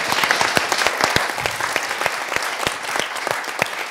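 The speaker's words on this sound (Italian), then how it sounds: "un punto per uno, un applauso" Studio audience at a quiz show breaking into brief, lively applause after a correct answer, dense claps heard clearly on their own.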